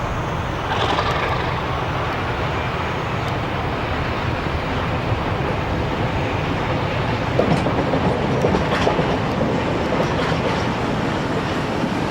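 A freight train rolls steadily past at Tunes, the main junction station on the Algarve in Portugal, with a continuous heavy rumble and wheel noise that stays loud throughout and peaks briefly near the end.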